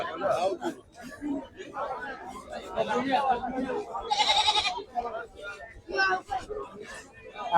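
Several goats bleat repeatedly, close and loud, amid a busy crowd of people chattering in the background at Azimganj livestock market.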